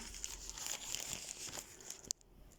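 A plastic bag crinkles and rustles up close in a quick run of crisp crackles, ending with one sharp crunch before going quiet.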